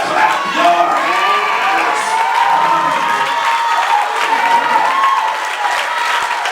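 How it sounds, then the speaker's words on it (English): A church congregation claps and cheers loudly and continuously, with whoops and shouts mixed into a dense, sustained wash of applause. "If you remember anything, clap your hands."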